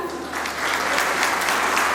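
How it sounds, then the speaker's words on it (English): Audience applause at a junior college annual day celebration, a short, continuous wash of many hands clapping that builds slightly and holds steady. "So can I hear a round of applause from everyone?"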